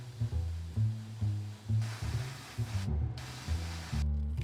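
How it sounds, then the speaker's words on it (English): An airbrush sprays red paint onto small domes, a faint hiss in short bursts while a low, pulsing compressor hum sits underneath. "I also mixed up a plunger rubber red in the airbrush and I applied it to the little domes"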